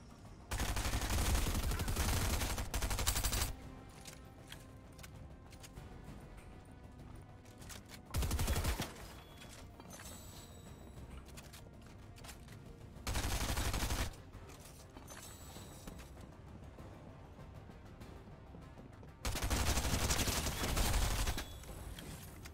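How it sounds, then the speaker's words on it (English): Bursts of rapid gunfire in the Fortnite video game come in four loud volleys spread across the stretch, with quieter steady game noise and ambience in between. "I'm getting shot at."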